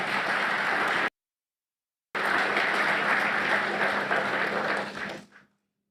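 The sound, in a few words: audience applause at a summit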